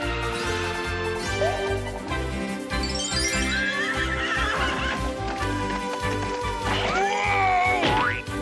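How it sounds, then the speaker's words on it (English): A horse neighs in a loud, wavering whinny, then again more sharply near the end, alongside clip-clop hooves and a bouncy comic musical score from an old TV sitcom scene. "I'm gonna make you eat dirt, horse."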